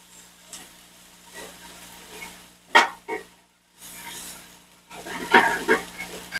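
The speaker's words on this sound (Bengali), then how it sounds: "1 টেবিল চামচ আদা রসুন বাটা দিয়ে নেড়ে ভাজতে হবে।" A tablespoon of ginger garlic paste hits hot refined oil and is stirred, giving short, loud bursts of sizzling separated by quieter stretches.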